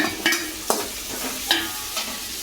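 Chopped garlic fries in hot oil for a Kerala-style fish curry, a soft sizzle broken by a few sharp scraping knocks of a spoon stirring the pan, close up with no voices.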